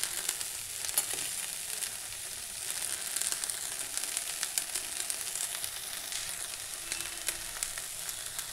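Green chilies with crushed garlic and ginger paste frying in hot oil for a broccoli dish, a dense continuous crackling sizzle with scattered sharp pops, steady and close with no voices.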